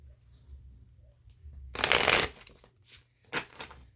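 A deck of Rider-Waite holographic tarot cards is shuffled close up: one loud, dense riffle lasting about half a second, followed by a couple of softer flicks as the cards settle.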